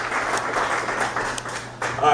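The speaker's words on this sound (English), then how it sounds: "Applaud for our amazing host tonight." An audience at a spoken-word night in a coffee shop applauds the host, brisk clapping at a moderate level that dips near the end before rising again, with some talking mixed in.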